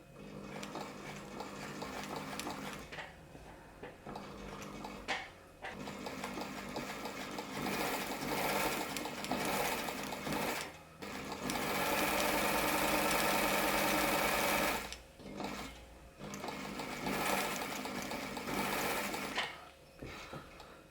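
An Elna Supermatic Star Series 62C sewing machine top stitching, its motor running in long steady bursts with brief pauses and one short stall, close and loud with no talk.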